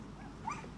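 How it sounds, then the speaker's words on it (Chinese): A newborn puppy, one of a litter found in a hospital wall cavity, gives a single short high whimper close by, rising briefly against a low background hum. "你看这小狗子， 它要吃奶，你看。"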